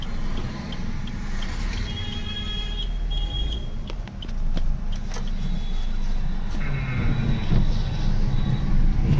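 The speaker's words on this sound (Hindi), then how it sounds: "ये गाड़ी जा रही है बन के भाई, पूरी डेंटिंग पेंटिंग होके जा रही है" A Suzuki Dzire drives out of a workshop after full denting and painting, its engine a steady close rumble with faint clicks and shop noise around it.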